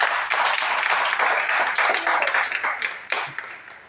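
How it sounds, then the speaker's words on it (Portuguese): A church congregation claps hands together at a Bible class closing session, a moderately loud burst of mixed clapping that thins into scattered individual claps toward the end. "Uma salva de palmas para Jesus."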